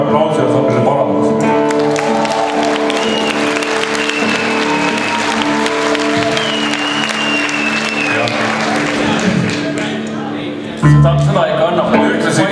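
Loud, sustained applause rises from a rock festival audience and holds dense and steady. Near the end it dips briefly, then surges back. A crowd murmur sits underneath the clapping.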